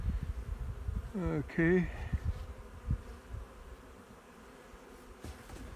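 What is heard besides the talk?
bees in queen mating boxes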